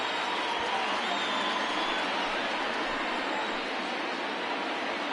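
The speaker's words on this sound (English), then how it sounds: "listen to this crowd now. They are really into this." A baseball stadium crowd cheers during a late rally, a dense, steady roar that fills the whole stretch without letting up.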